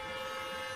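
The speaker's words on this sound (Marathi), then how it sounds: "वाहनांचा आवाज" A vehicle horn blares in one steady, loud, unbroken tone lasting nearly a second before cutting off abruptly.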